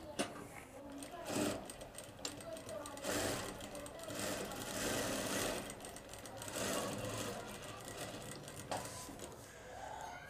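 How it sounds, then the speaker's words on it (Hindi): A sewing machine stitches a shirt flap pocket in close, loud bursts of rapid mechanical whirring that speed up and pause several times. "अब हम इसको सिलाई लगा देते हैं"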